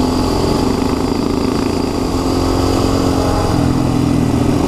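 A KTM 530 dirt bike engine runs with a loud, steady, close-up drone and a constant rumbling throb throughout, with no other sounds over it.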